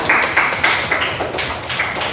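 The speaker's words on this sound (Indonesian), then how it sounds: "Beri aplaus buat teman-teman kalian." Rapid hand claps from a classroom group applauding fellow student groups, a brisk, steady patter of many hands close by, lasting a couple of seconds without talk.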